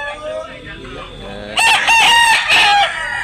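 A Lemon Sweater gamefowl rooster crows loudly and close in the second half, a strong harmonic call with a short break, after low murmuring and background noise; farm setting near Tabunok, Talisay, Cebu.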